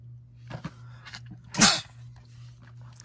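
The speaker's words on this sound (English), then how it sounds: "I had to sneeze." A single sharp sneeze bursts out midway, loud and close, amid quiet room tone and a few small rustles.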